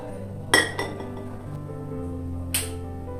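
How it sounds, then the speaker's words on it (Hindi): A metal spoon clinks sharply against a glass of water while cumin seeds are stirred in, two quick taps close together followed by a third clink a moment later, fairly quiet in a still room. "एक ग्लास या एक कप पानी में आप 1 चम्मच डाल दीजिए ज़ीरा और उसको अच्छे से मिक्स करके"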